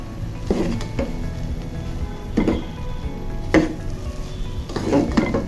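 Spatula scraping and clanking in a pan as Chinese fried rice is stirred and tossed, with steady metallic scrapes and a few louder knocks over a low background sizzle; no talking.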